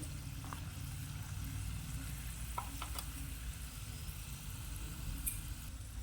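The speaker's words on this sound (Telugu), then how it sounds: "ఇలాగ బాగా ఫ్రై అవ్వాలి గోల్డెన్ కలర్ లాగా" Miniature french fries fry in hot oil in a tiny cooking setup, making a steady, continuous crackling sizzle throughout with a few faint clicks from the utensils.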